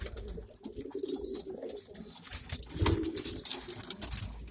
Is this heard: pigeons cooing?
yes